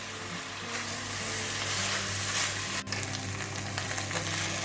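Flour cooks in a pot of beef bourguignon with a steady, dense sizzle and faint stirring scrapes, one sharp knock near the middle, no talking.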